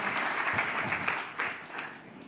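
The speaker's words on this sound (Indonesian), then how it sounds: "Boleh tepuk tangannya yang paling meriah buat Yesus Tuhan kita." Steady applause from a church congregation during a sermon, dense and sustained for a couple of seconds, fairly loud with slight swells.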